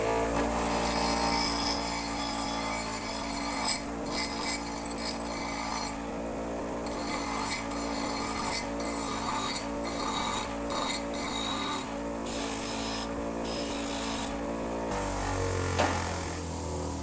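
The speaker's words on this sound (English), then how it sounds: "let me take this over to the bench grinder and see if we can't clean this up a little bit" A bench grinder cleans up a metal trailer bracket, its motor holding a steady droning hum with faint grinding scrapes throughout before winding down near the end.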